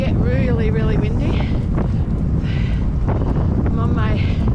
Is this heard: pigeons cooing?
no